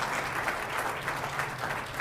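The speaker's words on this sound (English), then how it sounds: "Let's give a big round of applause for these talented artists." Audience at a school district board meeting applauding student artists, steady dense clapping from a seated room, moderately loud and even throughout.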